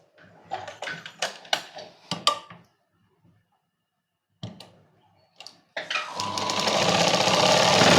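A sewing machine stitches a princess cut blouse in quick rattling bursts, pauses, then runs again in a long, steady, rising whir close by.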